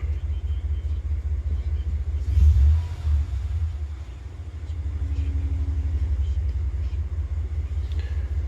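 A 2019 RAM 1500 idles with a low steady rumble, then a single short throttle blip swells the engine briefly before it settles back to idle.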